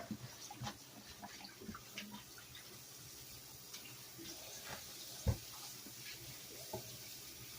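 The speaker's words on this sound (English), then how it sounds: "Now, you don't have to let the water run like I'm doing." Tap water running into a kitchen sink while mustard greens are washed leaf by leaf: a faint, steady trickle with scattered soft splashes and one sharp knock partway through.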